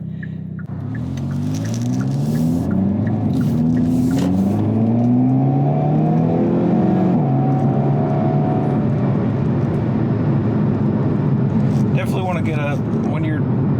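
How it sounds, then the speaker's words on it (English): A 2022 Hyundai Kona N accelerates hard in launch mode, its engine note climbing loudly through several rising sweeps with gear-change breaks, heard from inside the cabin as a person talks over it. "So it gives us about 20 seconds of just like blasting out as much horsepower and torque and everything the vehicle can muster."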